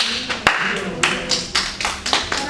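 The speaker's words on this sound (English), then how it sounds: "give applause to Sabila" Classroom applause for a student in a microteaching lesson, a short burst of uneven claps from a small group, with a few sharp louder claps rising above.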